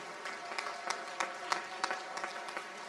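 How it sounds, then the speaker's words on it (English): Graduation ceremony crowd applauding graduating seniors and their flower buddies at a school in 2022, a steady wash of clapping with sharper individual claps popping through, fairly faint and distant. "Let's give one more round of applause for these amazing seniors and their flower buddies."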